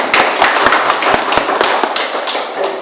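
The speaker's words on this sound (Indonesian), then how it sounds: "Tepuk tangan untuk kita semua." Classroom applause: a group of students clapping hands together in a burst of sharp, overlapping claps, loud and close, with no talking over it.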